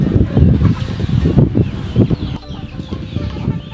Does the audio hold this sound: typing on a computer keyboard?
no